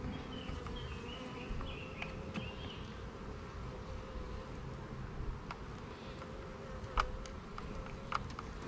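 Honeybees from a tree colony buzz steadily while being moved into a modified extra-deep horizontal hive, a dense close hum filling the whole clip with a few sharper passes of individual bees near the end.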